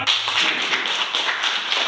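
Classroom applause for a student named Eva, a short burst of many hands clapping in a dense, even patter that lasts under two seconds.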